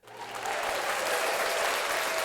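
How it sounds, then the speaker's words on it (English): Applause from a crowd begins abruptly and carries on as a dense, steady clatter of clapping, fairly close and even in level, with a faint voice just at the start. "Good claps."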